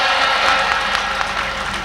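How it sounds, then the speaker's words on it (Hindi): A short burst of dense audience clapping at a Hindi poetry recital, loud and continuous throughout with a faint crowd murmur beneath. "एक बार जोरदार तालियां"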